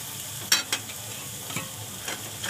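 Chopped carrots, capsicum and onion being stirred in a hot pan for noodles, a soft sizzle under a few distinct scrapes and clinks of the spoon against the pan.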